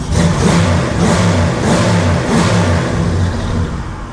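A car engine revs up loudly and close by, rising and falling in pulses over a steady mechanical roar, the engine holding at about 195 degrees after overheating concerns, then returning to idle.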